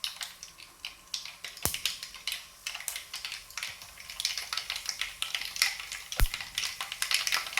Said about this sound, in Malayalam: അങ്ങനെ കടുക് പൊട്ടുന്നുണ്ട്.